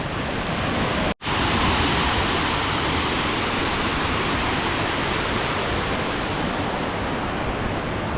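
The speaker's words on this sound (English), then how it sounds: "And this is the waterfall from the top." Steady, dense roar of a waterfall heard from the top on a mountain in Vietnam, continuous and loud throughout, with a brief dropout near the start.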